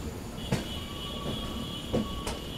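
The Kashi Patna Jan Shatabdi Express runs through foggy country with a faint, steady rumble of wheels on rails, a couple of brief knocks and a high thin whine, heard from inside a nearly empty carriage.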